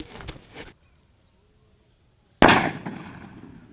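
Small colour snake firecracker from Sivakasi going off outdoors: a faint sputter, a quiet pause with insects chirping steadily, then a sudden loud, close hissing burst that fades over about a second.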